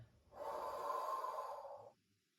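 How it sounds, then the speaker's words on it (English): One long, breathy exhale during a prenatal Pilates stretch, heard close and clear. It lasts about a second and a half against quiet surroundings. "And exhale."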